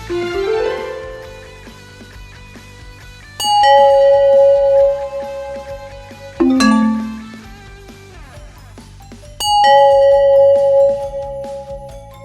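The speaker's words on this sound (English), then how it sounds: "let's listen to our last set of bells." Three bright bell strikes ring out a few seconds apart, each chime sustaining and slowly fading, with a softer descending tone between the first two.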